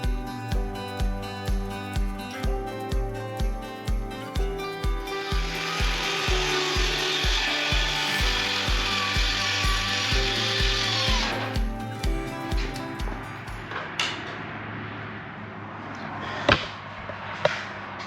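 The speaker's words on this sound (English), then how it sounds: "I utilized this board to create a fence to cut the plywood down to size" A power saw cutting plywood siding along a board clamped as a fence, starting with a rhythmic series of regular thumps, then a sustained whining cut that ends abruptly, followed by a few sharp knocks; close, no talking.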